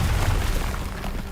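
A fiery blast spell detonates in a video game, a dense booming burst with heavy low rumble that fills the whole moment at steady loudness, with no talking over it.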